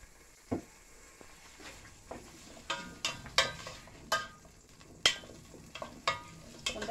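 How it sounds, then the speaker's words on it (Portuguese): Sliced calabresa sausage browning in a pan, giving a faint, steady frying hiss broken by a series of sharp crackling pops, irregular but frequent, with no talking. "Aqui tem uma calabresa. Que eu cortei assim ela. Então, vamos colocar aqui. Vamos dourar ela um pouquinho."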